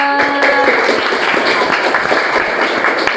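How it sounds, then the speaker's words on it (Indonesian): Classroom applause follows a practical lesson, a loud, dense burst of many hands clapping together that carries on steadily for several seconds, with a brief voice at the start. "Tepuk tangan buat kita semua."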